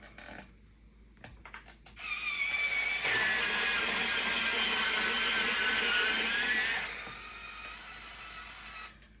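A pencil is sharpened for art testing, probably in an electric sharpener, with a steady whirring grind lasting several seconds after some brief handling clicks, then tapering off quietly.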